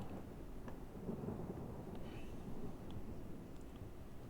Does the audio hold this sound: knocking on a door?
no